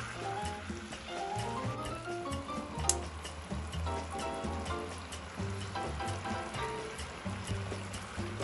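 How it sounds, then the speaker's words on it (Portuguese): Beer poured into a hot pan of frying steaks in a mustard-beer sauce, giving a steady sizzling, bubbling crackle with scattered pops, close and continuous. "Ainda vou acrescentar mais um pouco de cerveja."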